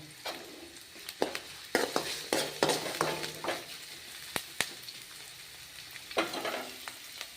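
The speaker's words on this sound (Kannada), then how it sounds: "ಈಗ ನೋಡಿರಿ ಎಣ್ಣೆ ಒಳಗೆ ಗೋಲ್ಡನ್ ಕಲರ್ ಬರೋವರೆಗೂ ಫ್ರೈ ಆಗಿ" Ingredients for North Karnataka-style jhunka fry in hot oil in a pan, a soft crackling sizzle punctuated by sharp spatula scrapes and clinks against the pan, close and moderately quiet, with no talking.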